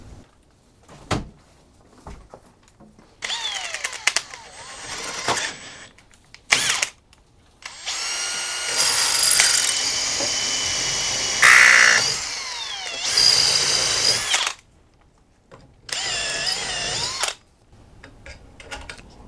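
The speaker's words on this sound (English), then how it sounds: "So I'll just put the rest of them in here and drill them out really quick." Power drill boring out tapped holes in an engine part, held by hand in a home studio, running in several loud bursts of a few seconds each with whining tones and short pauses between.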